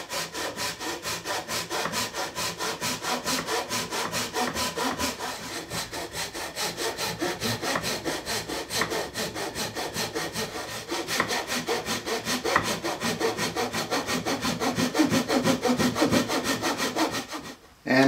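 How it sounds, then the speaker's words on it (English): A handsaw cuts fret kerfs in a ukulele fretboard held in a miter box, making steady, fast back-and-forth rasping strokes that go on without a break, close and clear. "So go ahead and cut all of your kerfs for your fret wires."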